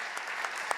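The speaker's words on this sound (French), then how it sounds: "Applaudissez." Audience applause at a plenary session of a 2015 congress, a short steady wash of many hands clapping, moderately faint and even, with a few sharper individual claps standing out.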